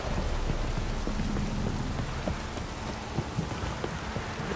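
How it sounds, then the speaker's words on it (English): Steady rainfall in The Witcher 3 patters softly, with scattered sharper drops and occasional low thumps punctuating a quiet, continuous wash of rain. "If it don't stop raining, my arse will rot off."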